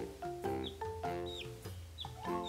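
Young chickens peep and cluck softly in a rapid, repeating run of short calls at close range, with no talk over them.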